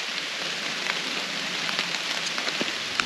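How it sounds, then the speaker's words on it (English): Steady rain falls outdoors in a natural setting, a dense, even hiss of drops striking surfaces with scattered louder taps, continuous for the whole stretch with no voices. "The rain has picked up."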